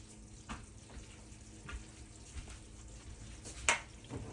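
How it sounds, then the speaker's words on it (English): Cajun shrimp macaroni and cheese fresh from the oven gives off a faint, soft bubbling and sizzle, with a sharper tap or clink near the end. "I can hear it bubbling."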